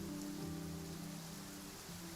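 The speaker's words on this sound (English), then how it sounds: "It's raining." Rain in the video game Genshin Impact, a steady broadband hiss of falling rain under a low musical hum, continuous and fairly faint throughout.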